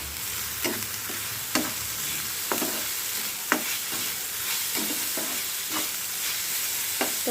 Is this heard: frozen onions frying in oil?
yes